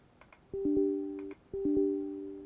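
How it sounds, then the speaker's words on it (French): Windows 11 notification chime sounds twice in succession, each a short cluster of clean layered electronic tones that ring and fade, clear and alone after a few faint clicks. "Donc ça, c'est quand on a une notification."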